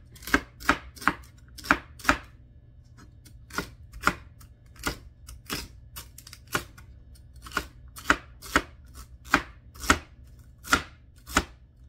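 Knife chopping a white onion on a cutting board, a series of sharp distinct chops in irregular bursts with short pauses, close and clear against a quiet low hum.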